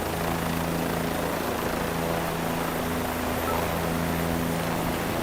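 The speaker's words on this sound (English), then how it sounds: "They're just flying helicopters today." Bell 407 tour helicopters fly over New York at night, a steady loud rotor and engine drone with a throbbing low hum running continuously.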